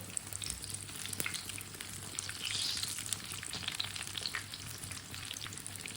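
Breakfast food fries in a pan and is flipped from side to side, giving a steady close sizzle with soft crackles and occasional stirring scrapes throughout, with no talking.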